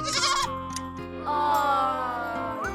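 A young goat kid bleats in a thin, wavering voice, a single drawn-out cry with a tremulous rise at the end, heard alone and fairly close in a bedtime tale about a wolf and seven little goats.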